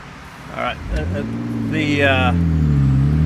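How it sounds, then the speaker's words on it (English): A dump truck passes near a lakeside spot, its engine a deep, growing rumble that holds loud and steady beneath a brief bit of speech. "we got a dump truck coming here"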